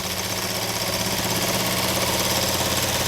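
A sewing machine stitches a salwar with a fast, loud, continuous mechanical chatter, its needle pulsing steadily at close range without pause.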